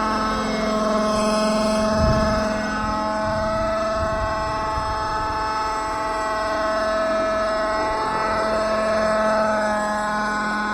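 Uni Star 60 RC helicopter engine in flight, a continuous high whining drone with steady tonal harmonics, shifting slightly in pitch as it manoeuvres in a crosswind, loud and unbroken.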